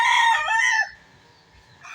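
A rooster crows loudly and close by at a scrap metal and corrugated roofing yard in Muntinlupa, one strong call fading out after about a second, then quiet.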